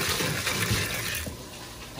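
Water pours steadily into a small 20-gallon saltwater aquarium as a continuous, close gushing and splashing fill that fades slightly toward the end.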